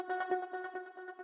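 A trance-style synth guitar patch with added effects plays a faint run of short pulsing stabs over a steady harmonic tone, with echo-like movement and a regular rhythm.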